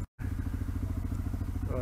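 A Yamaha XT250 or KTM 990 motorcycle pulls away slowly on the clutch, a close steady low engine chug after a brief dropout.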